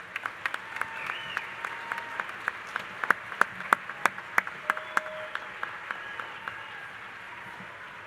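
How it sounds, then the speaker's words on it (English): Scattered, fairly faint applause from an audience for standing bachelor's degree candidates at Northwest Missouri State University's 2022 spring commencement, a sparse run of individual claps spread over several seconds in a large hall. "You can give them a round of applause ahead of time"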